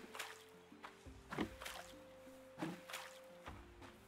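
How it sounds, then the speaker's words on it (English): Bucket watering of crops in the farming game Roots of Pacha, soft splashy drip and pour effects at about 1.4 and 2.6 seconds over gentle background music, no talking. "And water these crops."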